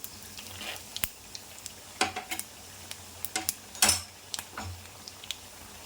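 Peanuts and lentils frying in oil for a South Indian tempering: a faint sizzle beneath sharp metal clinks and scrapes of a spoon stirring in the pan, coming in irregular bursts.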